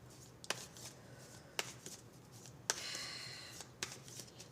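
A deck of cards handled and shuffled, heard as quiet, close riffles and soft snaps separated by pauses over a faint hum.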